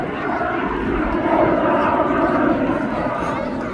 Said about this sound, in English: Got a Rolls-Royce Viper 202 engine, able to fly up to 420 knots.